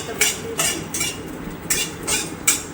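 Cashews and raisins frying in ghee in a wok, heard as a run of about six sharp metallic scrapes and clinks of a spoon against the pan in an uneven rhythm over a quiet background.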